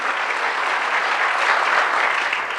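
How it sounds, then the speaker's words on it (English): Audience applause at a political talk, steady and full, a broad wash of many hands clapping together without pause and with no voices over it. "Round of applause"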